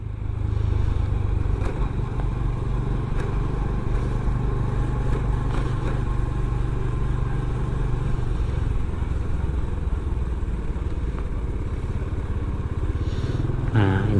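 Steady Honda motorcycle engine drone while riding through Merak port, loud and continuous, with road rumble and a brief rattle near the end.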